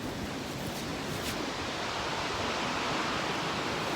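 A nearby waterfall roars with a steady, dense hiss of falling water, spray thick enough to drench anyone standing close, sounding alone and even throughout with no voices.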